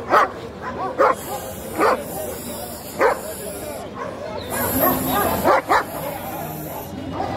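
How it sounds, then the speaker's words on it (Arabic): Guard dogs at a Friday animal market in Egypt bark in repeated sharp bursts, close and loud, mixed with whimpers and yips, while people talk in the background. "كلب حلو."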